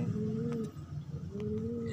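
A pigeon coos twice, low soft throaty calls separated by a short pause, close by over a steady hum.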